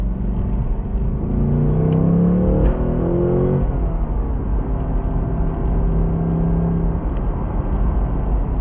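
A 2026 Ford Mustang Dark Horse with a manual-gearbox V8 drones steadily from inside the cabin, a deep continuous engine rumble with a brief rising rev early on, loud and without talk.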